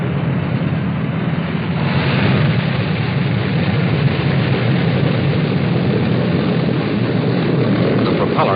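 An aircraft on approach and touchdown at a runway in 1951, recorded as a loud continuous engine and propeller roar that stays steady throughout, with a voice speaking over it.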